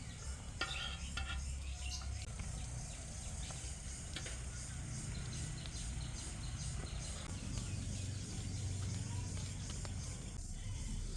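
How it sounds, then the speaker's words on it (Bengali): Chicken and egg sandwiches fry in oil on a tawa, a steady low sizzle running throughout with occasional scraping and stirring clinks, faint birdsong in the background of a village kitchen. "এখন আমরা স্যান্ডউইচ গুলো তেলে ভেজে নিব তাওয়ার মাঝে"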